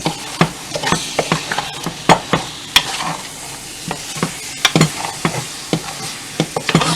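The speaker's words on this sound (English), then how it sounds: "Now let this fry up a bit. The tomato gonna break down eventually." Tomatoes fry in a pot for Guyanese hassar curry, with sharp, frequent spoon scrapes and clanks against the pot over a steady sizzle, close and loud.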